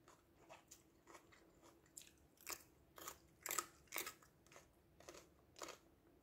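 Raw yellow bell pepper bitten and chewed up close, giving a run of sharp, crisp crunches in an uneven rhythm, quiet overall with no talking.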